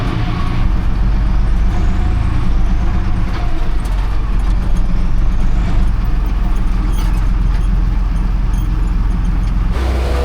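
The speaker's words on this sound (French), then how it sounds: "Oh, les voitures." Cars and heavier vehicles driving past on a road beside a farm field during maize sowing, a loud continuous rumbling roar close by that hardly lets up.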